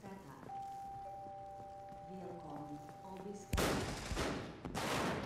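Loud close gunfire bursts in the military shooter America's Army: Proving Grounds erupt suddenly after quieter ambience and speech, then come in dense repeated volleys toward the end.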